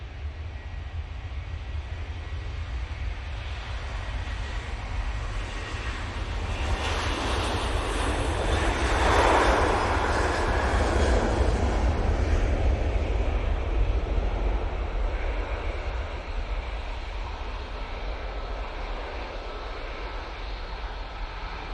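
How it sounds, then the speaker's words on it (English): A KLM airliner taking off from Manchester Airport, bound for Amsterdam Schiphol: a steady, broad jet engine roar that swells to a peak midway and then slowly fades as the aircraft climbs away, with no voices. "KLM finally departing off to Amsterdam Schiphol now."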